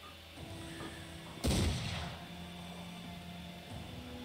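A single booming gunshot erupts in the Mordheim video game, one loud broadband blast over a quiet low hum, fading over half a second, with faint clicks around it.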